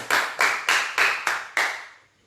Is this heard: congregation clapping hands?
yes